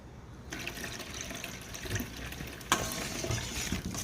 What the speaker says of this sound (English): I am adding some warm water